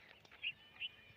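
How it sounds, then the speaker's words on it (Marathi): Two short, high bird chirps ring out over quiet outdoor ambience on a dewy, cold morning at a farm field, faint and somewhat distant. "तुम्हाला पक्ष्यांचा आवाज येत असेल"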